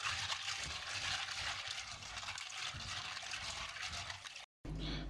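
Pasta is washed in water in a home kitchen, a continuous sloshing trickle and gurgle of running, stirred water that ends in a brief silent gap.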